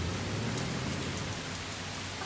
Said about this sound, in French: il ne pourrait pas arrêter de pleuvoir maintenant